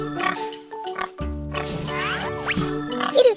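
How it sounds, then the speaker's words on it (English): A cartoon pig in a children's farm animal cartoon gives short oinking grunts over bouncy background music, the sounds clustered and fairly close. "It is a pig."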